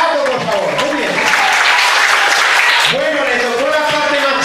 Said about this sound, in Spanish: ¡Un aplauso para Ato, por favor!